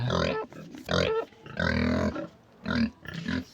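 A second hungry pig on a farm gives loud, close grunts and drawn-out squeals in several bursts separated by brief pauses.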